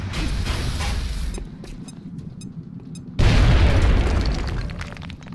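Grenade blast in XCOM tears through cover, a loud deep boom with a rumbling tail, then a second heavy explosion bursts in abruptly and rolls on, booming and crackling with debris.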